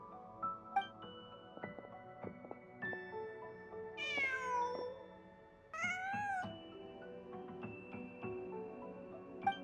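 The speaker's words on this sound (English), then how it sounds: "Just a cat." A cat meowing in Genshin Impact, several drawn-out mews and a higher yowl rising over soft game music, fairly quiet and up close; no talking.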